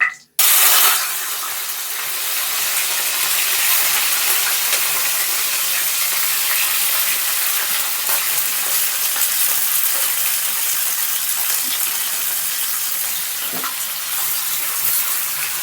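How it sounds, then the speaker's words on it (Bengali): Peppers lightly frying in oil for chow mein, a loud steady hiss and sizzle after a brief sharp start, continuous and close with no voices. "তার তেল দিচ্ছি প্রথমে পেপারগুলো আগে ভাজতে হবে একদম হালকা ফ্রাই করবো পেপারগুলো"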